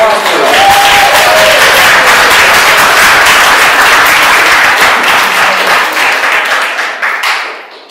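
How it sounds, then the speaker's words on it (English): An audience at a school term-end event bursts into loud, sustained applause, dense clapping filling the room for several seconds before tapering off at the end, with some voices mixed in. "So give them a round of applause for them."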